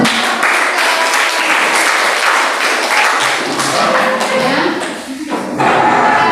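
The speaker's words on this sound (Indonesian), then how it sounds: "Beri tepuk tangan." A classroom audience applauds after a group presentation on education, with loud, dense clapping that fills most of the six seconds and fades briefly near the end before swelling again.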